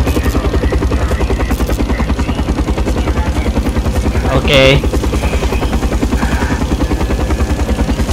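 A helicopter in the Call of Duty Black Ops video game drones with a steady, loud rotor pulse throughout, broken by a brief burst near the middle, with a voice briefly heard.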